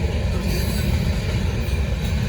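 A Norfolk Southern freight train passes close by with a loud, continuous low rumble and faint wheel squeal over the top, steady throughout with no talking.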